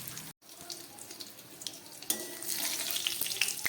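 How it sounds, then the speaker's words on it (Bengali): Pointed gourds being fried in oil in a home kitchen, with a steady sizzle and soft stirring scrapes that grow louder and denser partway through, with no talk. "ঘুরিয়ে ফিরিয়ে পটলগুলোকে আমি ভেজে নিচ্ছি।"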